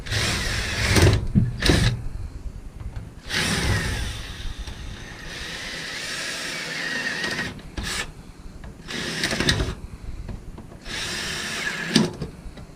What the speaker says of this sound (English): we're just going to drill these things out.